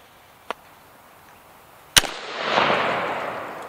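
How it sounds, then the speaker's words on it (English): Two 12-gauge blasts from a G-Force Arms AR-style semi-auto shotgun fired outdoors at cans: a sharp crack, then a second louder shot about a second and a half later, trailing into a rushing rumble. "First and second shot."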